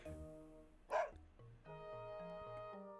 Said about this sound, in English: Why are you barking so loudly?